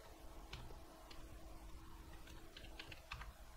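Quick bursts of typing on a computer keyboard, scattered keystrokes and short clusters over a steady low hum, fairly close and faint with no one speaking.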